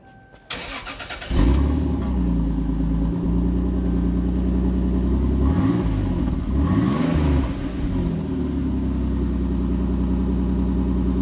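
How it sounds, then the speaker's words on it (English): A Toyota Supra engine fires up and idles with a deep, loud exhaust rumble, then revs up and down twice before settling back to idle. "I just want to let people hear the exhaust."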